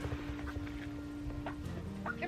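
Chickens clucking and murmuring close by in a backyard garden while let out of their coop, soft irregular calls over a steady low hum, fairly quiet throughout.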